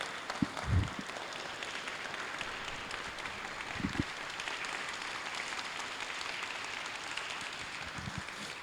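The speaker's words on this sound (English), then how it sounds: "I think that deserves a standing applause." An audience at a City of Atlanta proclamation event gives a standing ovation. The clapping is soft, distant and continuous, with a few low thumps scattered through it.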